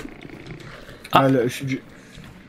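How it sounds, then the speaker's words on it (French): Dogs growl in the Hunt: Showdown video game: a short, loud, throaty snarl lasting about half a second, then a weaker second growl, with someone talking around it. "C'est un chien, c'est des chiens, c'est des chiens de fou"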